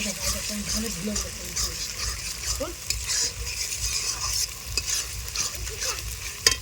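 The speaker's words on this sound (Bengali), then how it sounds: "এই লঙ্কাটা দিয়ে ভালো করে কিন্তু মশলাটা কষিয়ে নেব" Spice paste with chili powder frying in a pan and stirred continuously, a steady close sizzle with scraping strokes and faint voices underneath.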